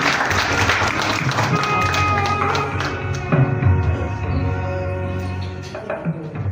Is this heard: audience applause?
yes